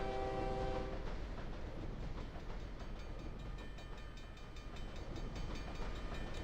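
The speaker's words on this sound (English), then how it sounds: "all I could hear was trains crossings" Trains and railroad crossings in a train simulator game: a steady rumble of rolling rail cars with clickety-clack, a brief horn-like tone at the start, and faint crossing bell tones, distant and fairly quiet throughout.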